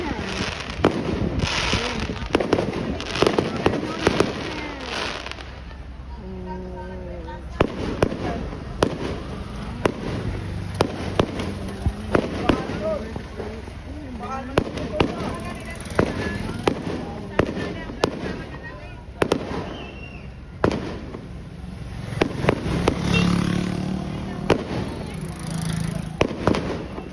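New Year fireworks bursting in repeated sharp cracks and pops through the night air, continuous and fairly close, with people cheering and talking over the celebration.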